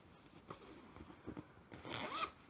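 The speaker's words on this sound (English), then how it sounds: "oh, it's actually got a zip on the back" A zipper on the back of a fabric bag is undone in a short rasping pull, quiet and close, preceded by faint handling rustles, with no talk.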